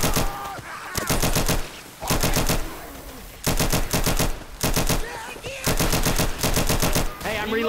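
Bursts of automatic weapon fire from Left 4 Dead 2 in repeated loud volleys separated by short pauses, with shouted voices heard between the bursts.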